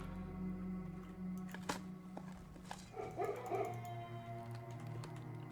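Dogs in the puzzle game Blue Prince giving a few short yips and barks over a steady low hum, with a brief whimpering cluster toward the end, moderately close and not loud.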